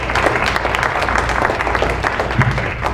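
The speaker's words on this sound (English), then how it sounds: "please give a round of applause to all of our performers this evening" An audience at a senior arts follies show applauds its performers in a dense, continuous clapping roar that holds at an even level throughout, with no talk over it.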